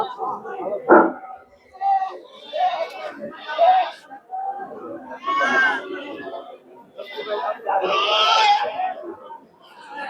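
Goats bleat again and again in wavering calls, some loud and close, amid a busy outdoor crowd at a goat market.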